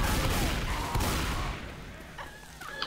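Dense gunfire in the zombie shooter Left 4 Dead 2, a loud steady burst of rapid shots that thins out midway, with faint talk in the background.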